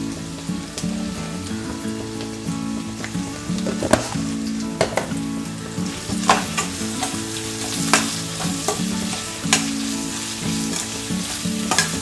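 Onions sizzle and crackle in a hot pan with a pinch of salt for an egg biryani, a dense steady frying hiss broken by sharp pops and occasional stirring scrapes, close up with no talking.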